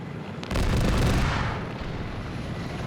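Strafing gunfire in a competitive multiplayer video game match with a helicopter, a sudden loud burst of rapid booming shots that fades into a sustained rumbling roar, with no talk over it.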